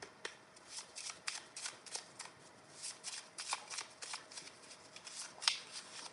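A deck of tarot cards being shuffled, a steady run of soft riffling flutters and light slaps repeating close by, quiet and without any talking.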